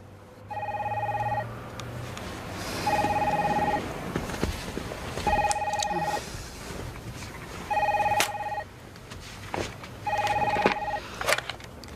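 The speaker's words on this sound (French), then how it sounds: "Et si vous répondiez au téléphone, hein?" A telephone rings in repeated electronic trills with short pauses between them, over a background of room noise and faint movement.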